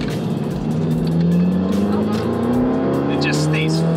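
Subaru WRX 2015+ on new coilovers pushed hard through a corner, a steady engine drone rising in pitch with faint tyre noise near the end, heard from inside the car under a loud cabin background.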